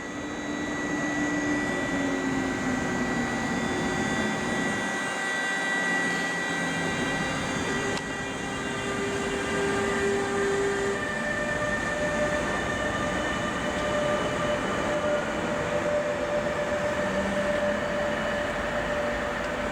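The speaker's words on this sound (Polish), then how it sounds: "EU47009 z pociągiem osobowym kolei mazowieckich do Mławy." Koleje Mazowieckie passenger train hauled by EU47009 electric locomotive toward Mława at a Warsaw station, a steady loud rumble of wheels and carriages with sustained tonal whine and faint squeal, running continuously without speech.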